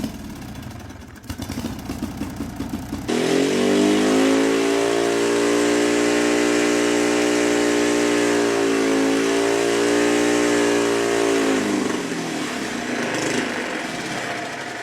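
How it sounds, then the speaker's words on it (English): Turbocharged car engine with a known boost leak cranking and catching, then holding a loud, rising and falling rev with a dip midway before settling and winding down. "First thing I'm going to do before jumping into this episode is start this thing up, see how much boost can actually make"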